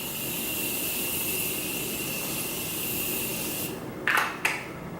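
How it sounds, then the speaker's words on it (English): A steady, continuous Morphe continuous setting spray hisses close up for several seconds while setting a face, then stops, followed by two short quick spritzes. "I'm gonna go in with my Morphe continuous setting spray and just set my face"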